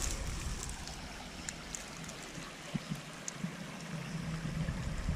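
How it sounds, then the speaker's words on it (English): A small stream of water flows into a creek outdoors, with a faint, steady trickling wash and a few soft splashes. "It's flowing right into that creek."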